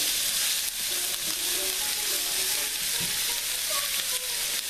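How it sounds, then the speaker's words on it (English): Onions sizzle and crackle in a hot pan while being stirred, a steady close frying hiss with soft scraping as they cook down toward translucent for a bhindi masala. "we'll be stirring this up a little bit until the onions get a little translucent"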